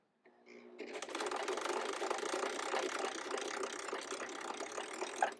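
Sewing machine stitching a seam in fabric, a rapid continuous mechanical chatter after a brief start-up, steady and close with no talk.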